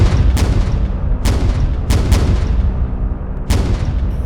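In a flight combat game, a Ki-109 fires its heavy aircraft cannon with four loud, sharp booming shots at uneven intervals over a constant droning engine roar.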